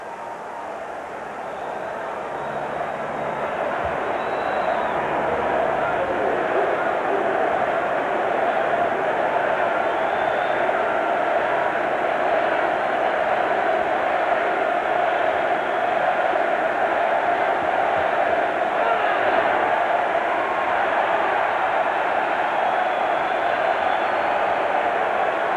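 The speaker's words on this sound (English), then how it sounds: "All these fans up on their feet." A large baseball stadium crowd on its feet during a Cubs–Expos game in the seventh inning, heard as a broad, sustained roar that swells in the first few seconds and then holds steady at a distance.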